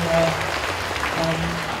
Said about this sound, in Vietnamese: Vỗ tay lớn lên quý vị ơi